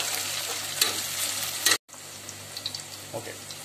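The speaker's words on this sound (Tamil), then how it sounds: "ஒரு பெரிய சைஸ் வெங்காயம் போட்டுட்டு வெங்காயம் நல்லா பொரியட்டும்." Chopped onion, one large one, frying in hot oil for ghee rice, a continuous close sizzle with scraping stir sounds, a sudden brief dropout midway, then a quieter crackle.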